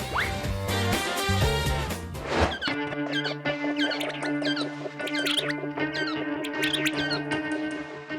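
Rapid chirping calls of a Japanese quail repeat over a steady background of music, bright squeaky notes coming in quick bursts throughout.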